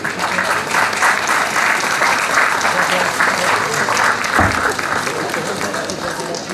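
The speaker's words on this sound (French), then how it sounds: "oui, on peut applaudir, je pense" Audience applauding at a gastronomy fair in Le Mée-sur-Seine, loud sustained clapping from a crowd in a hall, continuing evenly throughout with some voices mixed in.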